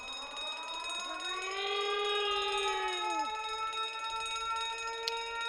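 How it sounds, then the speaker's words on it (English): A ship's emergency alarm in The Great Ace Attorney Chronicles video game rises into a loud, sustained electronic wail, holds for a couple of seconds and then drops away, leaving a faint tone and a brief click. "The emergency bell."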